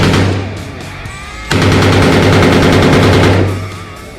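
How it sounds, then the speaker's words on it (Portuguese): MP-40 submachine gun fired at a machine gun range in Orlando, with rapid automatic bursts that swell into a loud, sustained rattle, then taper off. "ao atirar com a MP-40, essa experiência ficou marcada pela suavidade e pela cadência de tiro"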